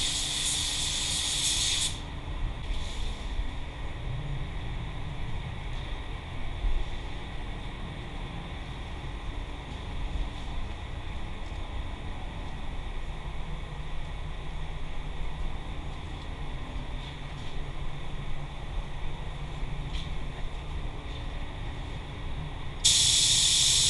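A spray gun laying down a waterborne metallic base coat on a car panel gives a steady, close hiss that runs almost unbroken for about twenty seconds, with short louder bursts at the start and end.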